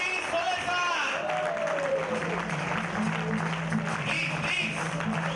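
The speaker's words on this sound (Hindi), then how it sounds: "एक बार जोरदार तालियां, जोरदार तालियां" Audience applause rises as a steady wash of clapping beneath a voice calling out to the crowd, with a sustained musical tone running alongside.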